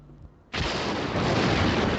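Thunder in the video game Callahan's Crosstime Saloon comes in as a sudden loud broadband crash after a quiet start, then rumbles on as a dense, sustained roar.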